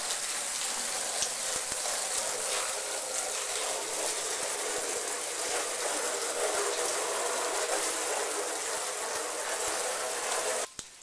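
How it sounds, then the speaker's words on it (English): A garden hose fed by a well pump sprays water onto a house and its vinyl and concrete porch, a continuous hissing splatter held steady at moderate level before cutting off abruptly near the end. "we've now started to put some water on the house"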